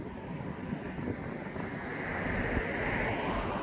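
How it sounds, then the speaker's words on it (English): Steady wind rushes and buffets the microphone, a broad low roar that swells slightly toward the end, with no voices. "Very windy."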